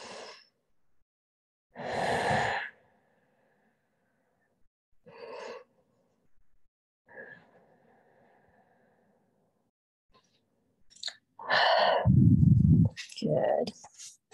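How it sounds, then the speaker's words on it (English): Slow, deep yoga breathing during a vinyasa practice, a few long separate inhales and exhales with quiet pauses between, close and soft, the last breaths louder and heavier. "About 3 more rounds of breath here."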